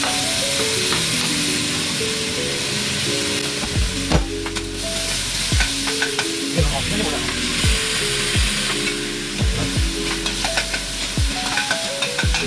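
Tomatoes frying in a pan for sinigang, a steady loud sizzle broken by repeated scraping stirs throughout.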